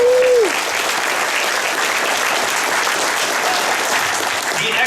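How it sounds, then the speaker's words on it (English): Sustained applause from a large Comic-Con crowd, loud and steady for the whole stretch, with scattered cheering mixed into the dense clapping and a brief voice at the very start. "give me a big round of applause"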